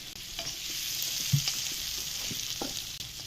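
Potatoes frying with spices in a kadhai for aloo bhuna, a continuous close sizzle with stirring scrapes and a few knocks of the spoon against the pan.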